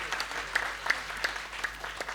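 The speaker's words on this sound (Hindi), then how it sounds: "आप तालियां बजाते रहो" An audience at a Hindi poetry recitation event claps continuously, a modest, fairly distant patter of many hands with a few sharper individual claps standing out over roughly two seconds.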